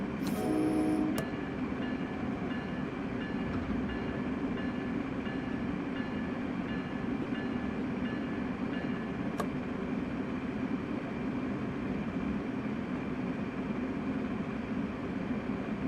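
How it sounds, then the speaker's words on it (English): A commuter train in Train Sim World 3 on a New York line runs at speed with a steady, loud rumble of wheels on rail, a short tone at the start and a brief click midway, no talk. "So, Crazy Dash, this is going to be a train that operates on C speeds."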